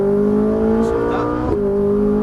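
Ferrari 458 Italia engine pulling hard on a racetrack, a steady loud drone with a brief dip and upshift mid-way before the revs climb again, continuous and close.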